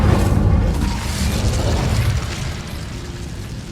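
The Incendio fire spell in Hogwarts Legacy makes a loud, close burst of roaring flame with a deep boom that fades into a crackling rumble over a few seconds.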